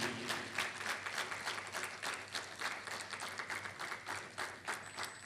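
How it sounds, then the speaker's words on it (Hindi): An audience applauds loudly and steadily at a stage event honouring a play about an 1842 uprising, the dense clapping filling the whole stretch without pause and with no voices over it. "एक बार जोरदार तालियों से स्वागत होना चाहिए।"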